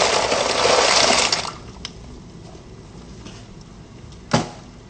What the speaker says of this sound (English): you're just gonna pour it into the boiling water.